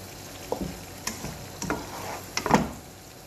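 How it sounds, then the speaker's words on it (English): Tuna sizzles and fries in a pan with oil while a utensil stirs and scrapes, with a few clattering knocks spaced across a quiet, steady hiss. "So basically I've sauteed the tuna very well."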